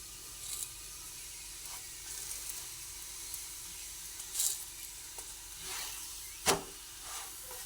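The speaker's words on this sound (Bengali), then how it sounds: "সব দিকই ভেজে নিতে হবে এই জন্য দুটো দিকই ভালোভাবে ভেজে নিয়েছি" Tomato paratha frying in a pan gives a faint, steady sizzle and hiss with a few soft crackles and one sharper pop near the end.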